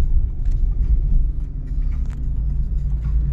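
Mitsubishi Space Star 1.9 DI-D diesel car driving on a road under construction, a steady low engine and road rumble throughout with faint clicks of gear shifting, close and continuous with no talk.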